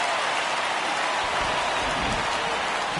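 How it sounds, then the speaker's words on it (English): Steady rain falls in an MLB 19 baseball video game, a dense, even hiss that stays constant throughout with no voices. "This isn't an easy sport to play in the rain."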